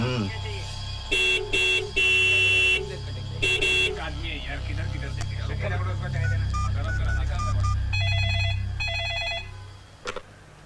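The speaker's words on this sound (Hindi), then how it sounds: "कब से हॉर्न बजा रही हूँ" A car horn honks in several short, blaring bursts near the start and again toward the end, under ongoing street noise and people talking.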